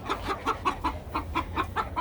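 Chickens clucking in a farm pen, a steady rhythmic series of about ten short clucks at moderate distance over low background rumble.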